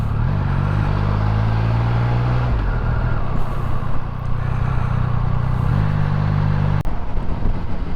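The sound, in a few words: Triumph Speed Triple 1200RS motorcycle engine braking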